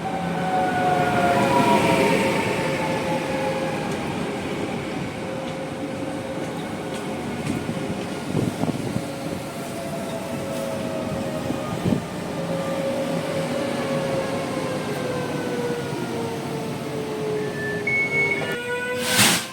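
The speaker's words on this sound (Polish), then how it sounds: "Na peron drugi wjeżdża Impuls z Krakowa do Katowic." An Impuls passenger train from Kraków to Katowice pulls into the platform at an old railway station, its long descending hum and hiss fairly close and steady, with a brief sharp squeal near the end.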